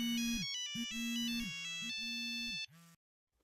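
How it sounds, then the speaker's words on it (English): A cell phone ringtone plays a bright repeating electronic melody of several rising and falling tones, loud and close, then cuts off abruptly into silence. "Then, Sonia's cell phone rang"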